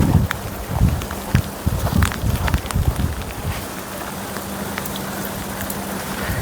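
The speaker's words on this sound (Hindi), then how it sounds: "बारिश भी हो रही है साथ साथ" Steady rain patters and splashes on surfaces at an Indian Navy station in Goa, with a low continuous hum running underneath and occasional heavier drops and knocks.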